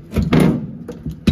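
The passenger door of a long-abandoned 1948 Dodge Power Wagon is worked, giving a few close, fairly loud thuds and clunks in quick succession, ending in a sharp closing knock.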